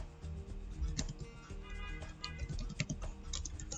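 Quick, irregular clicks of typing on a computer keyboard while entering an Excel formula, with light key taps in short bursts, close but quiet.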